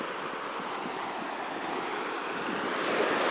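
Ocean surf rolling and breaking close by in cold water, a continuous broad wash of churning foam that swells louder toward the end, with some wind buffeting the microphone.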